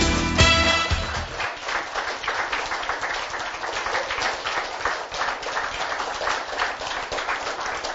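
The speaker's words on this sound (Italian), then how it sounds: "questo applauso di questi bambini, completamente spontaneo" Spontaneous applause from a group of children at a youth cycling race event, steady dense clapping sustained throughout, fairly close and loud, with a brief sharper burst near the start.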